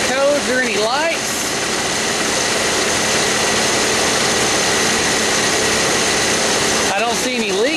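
A 3.4 engine in a Pontiac Grand Am idles steadily after starting, a close, constant low rumble and hum holding even throughout, with a slight whine rising briefly near the start and end.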